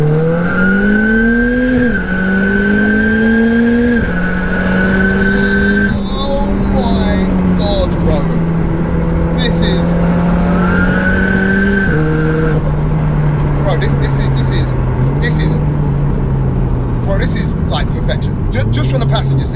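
A 713bhp four-wheel-drive VW GTI accelerates hard from inside the cabin, its engine note climbing steeply then dropping at each gear change in a repeated rising pattern, loud and continuous, with a voice talking over it.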